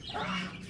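Pet duck giving a single short quack or cluck, near and fairly faint, lasting under a second.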